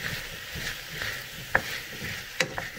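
Yellow squash sautés in a pan with very little virgin olive oil over medium heat, a soft steady sizzle broken by a few sharp clicks and scrapes of stirring, close by with no talk.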